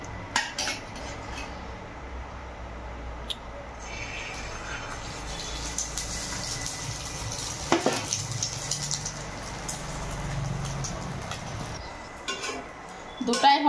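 Eggs and bread fry in a pan with a quiet sizzle. Utensils clink and scrape against the cookware throughout, loud and close, and there are a few sharper knocks near the end.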